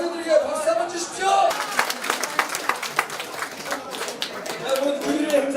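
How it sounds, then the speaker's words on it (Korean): Crowd applause and clapping at an outdoor patriotic rally in Gwanghwamun, Seoul, building after a short stretch of speech over a PA, with scattered cheers and voices mixed in. "참여해주신 우리 젊은 청년들에게 박수 한번 주십시오."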